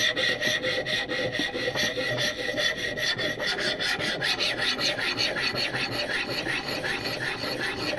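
A knife blade is drawn repeatedly across an oiled stone on a ViperSharp knife sharpener, rhythmic rasping strokes close up, steady and fairly quiet throughout.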